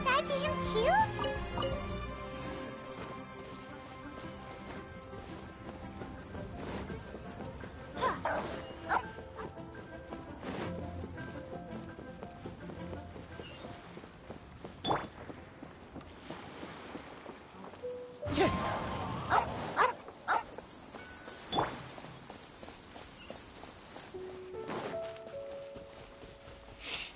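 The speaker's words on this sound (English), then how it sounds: "Really, dogs are noisy in this game." Dogs bark and yip repeatedly in the video game Genshin Impact, scattered sharp calls over a busy game soundtrack with a steady musical background.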